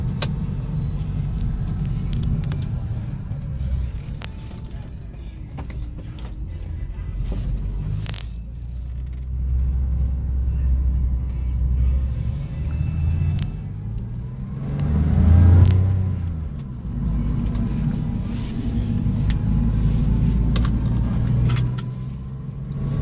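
A car engine runs steadily through a test drive, its low rumble swelling as it accelerates and shifts gears, with a louder surge midway and a faint jingle of keys.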